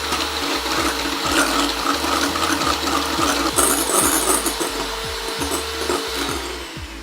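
An electric mixer whips aquafaba into a stiff vegan meringue, a steady motor whir with a rapid rhythmic low thumping from the beaters, loud and close with no talk.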